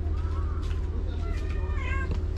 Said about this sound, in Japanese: 黒猫ちゃんがにゃーんってよ。